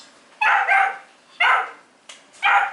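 A puppy barks close by: four sharp, loud barks spaced about a second apart, each clear against a quiet background.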